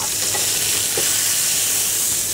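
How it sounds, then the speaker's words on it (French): A piece of beef searing in a very hot pan, a loud, dense, continuous sizzle heard up close and alone for a couple of seconds. "je vais cuire la viande 1 minute de plus sur l'autre face, afin d'avoir une cuisson saignante"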